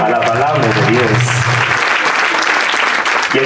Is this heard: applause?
yes